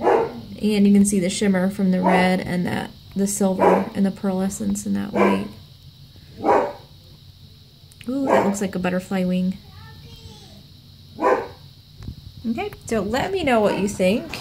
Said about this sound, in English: Sorry about the dogs, if you can hear them on the camera.